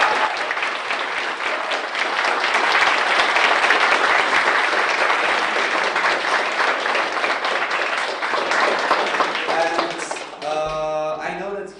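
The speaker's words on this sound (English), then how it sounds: "give one person the biggest round of applause" Sustained applause from a debating championship grand final audience, steady and loud for about ten seconds before fading, with a voice speaking over the tail end.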